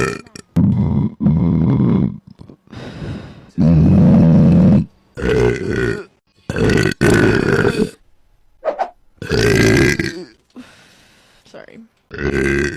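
A woman lets out a run of loud, close burps and grunting belches, around ten bursts of varying length separated by short pauses.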